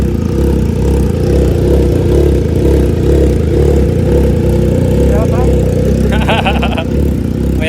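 A Triumph Trident 660 motorcycle with a full exhaust system idles loudly and steadily up close, a deep, even rumble that stays constant throughout, with brief higher mechanical chatter near the end.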